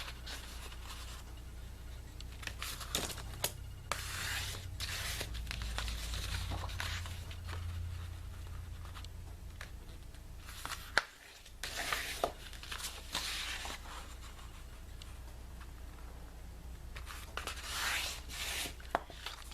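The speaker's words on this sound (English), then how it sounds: "you're going to fold them in half" Scored paper folded in half, with soft rubbing, creasing and sliding rustles plus a few light taps, close and fairly quiet, intermittent throughout.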